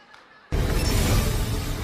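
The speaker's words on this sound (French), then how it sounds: "vous pouvez de temps en temps applaudir les brasseries du Cameroun pour ce chèque" At the Balafon Music Awards 2016 finale, an audience breaks into applause after a quiet moment, the clapping starting abruptly and continuing loud and dense to the end.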